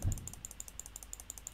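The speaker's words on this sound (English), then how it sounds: "Mouse clicking." Computer mouse clicking during a fast puzzle minigame, a steady run of light, quick clicks repeating about every tenth of a second, close and fairly quiet, with no voices.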